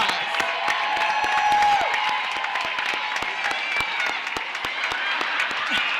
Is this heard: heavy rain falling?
no